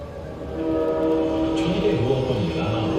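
An Indian Railways train rumbles steadily with a sustained horn-like tone layered over the rolling noise, fairly loud and continuous, carried on a music-backed promotional soundtrack.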